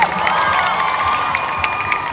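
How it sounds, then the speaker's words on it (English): A crowd cheers and shouts loudly, with whoops and some clapping mixed in, sustained and full throughout. "I think you should clap for your parents also right now."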